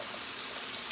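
Dry pasta poured into a pot of water while cooking buffalo chicken pasta, a steady, even rushing pour lasting about a second with no talk.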